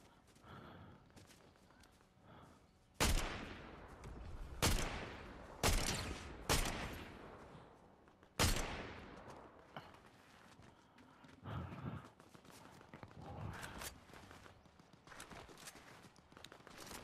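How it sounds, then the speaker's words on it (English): Gunfire rings out in a Fortnite Zero Build match: several sharp, loud shots spaced a second or two apart, each with a reverberant tail, over a low, busy game background. "There's a shooting down here too."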